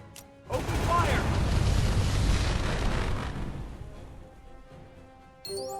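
Ship cannon fire in the naval game Uncharted Waters Origin: a loud booming blast swells in, rolls on for a few seconds and fades, with a voice calling out just before.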